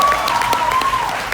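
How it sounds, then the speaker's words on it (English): Audience applause at a drag convention panel in New York, a steady wash of clapping across the whole short stretch with a voice speaking over it. "so clap for that"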